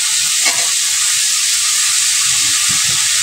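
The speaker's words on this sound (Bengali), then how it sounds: "ভালো করে আমি এগুলো ভেজে নেব।" Potatoes frying with figs in a hot pan, a loud, steady, close sizzle hissing throughout with faint stirring knocks underneath.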